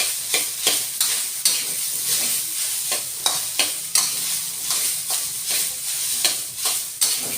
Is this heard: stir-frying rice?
yes